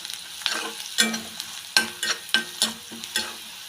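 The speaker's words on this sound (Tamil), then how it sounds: "இதுலேயே சாம்பார் தூள் ஒரு அரை ஸ்பூன் போட்டு நல்லா கலக்கி விட்டுருங்க" Sambar powder and spices stirred in a frying pan while making carrot rice: a close, steady run of about eight scraping spoon strokes against the pan over a light sizzle, with no talking.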